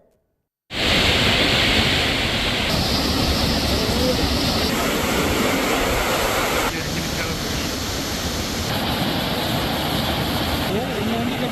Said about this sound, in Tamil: இதனால் சில மாதங்களாக வறண்டு காணப்பட்ட அருவிகளில் தற்போது தண்ணீர் ஆர்ப்பரிக்கிறது